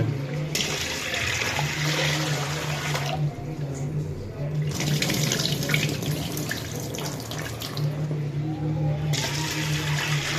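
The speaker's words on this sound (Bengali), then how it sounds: "ডালটা সুন্দর করে ধুয়ে নেওয়ার জন্য চেষ্টা করতেছি" Lentils (dal) rinsed by hand under a running kitchen tap, with a steady close rush of water and splashing that continues throughout, over a low background hum.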